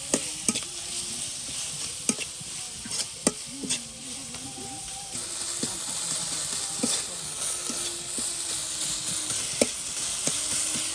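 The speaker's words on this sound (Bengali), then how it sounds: "তেলের সাথে একদম ভাজা ভাজা করে নেওয়া হচ্ছে" Spice paste frying in oil for a rural Bengali dish, with steady sizzle and repeated stirring scrapes and clicks in a pan, close and moderately loud, no talking.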